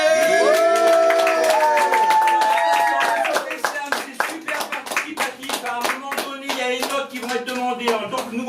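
A slam audience claps for the jury, a run of sharp, roughly rhythmic hand claps growing denser in the second half, with talking and vocal tones over the first few seconds.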